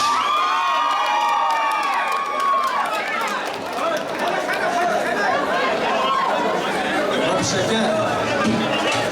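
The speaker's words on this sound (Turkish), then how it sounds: "Alkış!" A lively crowd at a Turkmen wedding cheers, whoops and shouts continuously, with children's voices, chatter and a loud voice in the first seconds, all dense and close throughout.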